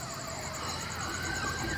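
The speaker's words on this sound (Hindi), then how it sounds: "आप सब भागिए भागिए पुलिस की गाड़ी आ रही है" A police car siren wails steadily in an action-movie scene, with a loud, continuous rising and falling tone over engine rumble.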